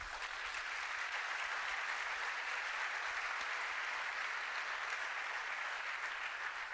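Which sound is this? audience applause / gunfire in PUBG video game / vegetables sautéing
audience applause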